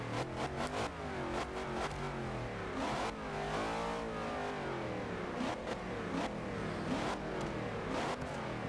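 The V8 engine of a 1963 Chevrolet Corvette C2 in Forza Horizon 2 revs hard and continuously, with rising and falling pitch sweeps and rapid shifts, loud and close, no voices.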